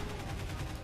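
A short, rapid burst of laser fire in the Garry's Mod video game, shot by a boss on a spooky map, a quick rattling stream of zaps that lasts under a second.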